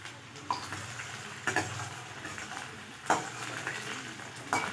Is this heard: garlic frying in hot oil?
yes